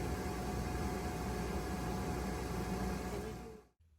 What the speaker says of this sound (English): The microwave is now running.